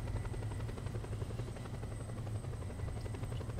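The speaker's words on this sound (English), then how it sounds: "I have two helicopters after me, that is not good." Two helicopters chase the player in the Just Cause video game, their rotors producing a loud, continuous low thudding drone with rapid rhythmic chop that stays close and steady throughout, with no voices.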